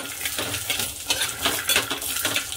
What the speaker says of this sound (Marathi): थोडंसं मी तेल टाकते याच्यात, जे छान भाजलं जाईल